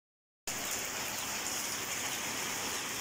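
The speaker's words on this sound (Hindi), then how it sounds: "बारिश हो रही है, बारिश हो रही है ना?" Heavy storm rain pours down in an even, continuous hiss, steady and moderately quiet throughout, starting abruptly after a short silence.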